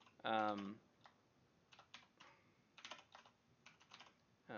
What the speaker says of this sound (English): Can't think about what I'm typing and talk at the same time